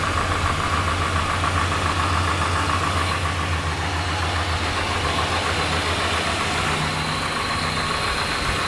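A 1972 Chrysler New Yorker's 440 cubic inch V8 idles close by with a steady, low, lumpy rumble that continues without a break. No one speaks.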